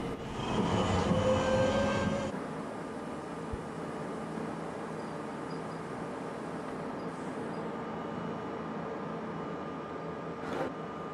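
A New York subway D train runs along its rails, a loud rumbling roar with squealing wheels for the first couple of seconds, then settling into a quieter steady hum of the moving car, with a brief sharp squeal near the end.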